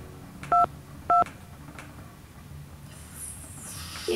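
Phone dialing in Nancy Drew: Treasure in the Royal Tower, two distinct keypad tones a half second apart over faint background hum, followed by a quieter tone at the end.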